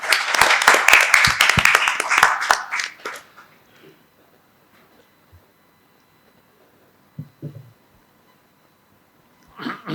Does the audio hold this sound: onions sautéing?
no